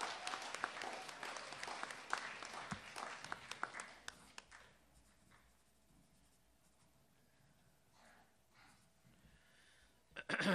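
Spelling bee audience claps after a correct answer, brisk dense applause for about four seconds that quickly dies away into a quiet room with small rustles.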